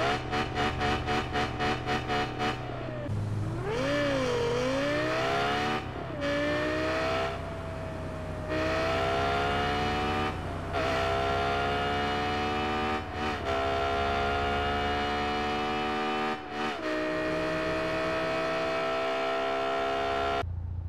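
A Lexus Alfa engine in Car Parking Multiplayer starts with a sputtering idle, then revs and sustains a loud whining drone with repeated pitch climbs and brief drops as gears shift, close and alone throughout.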